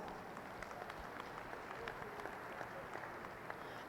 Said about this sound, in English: Give those three young people a nice round of applause.